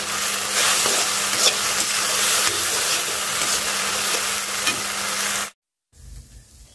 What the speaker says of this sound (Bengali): তানভীরের জন্য হালকা একটু নুডলস রান্না করে নিয়ে যাচ্ছি।